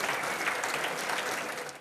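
High school students at the Ferdinand Buisson lycée in Voiron applaud Gérard Mourou, a former pupil and Nobel physics laureate. The applause is dense, continuous and moderately loud throughout, fading slightly at the end.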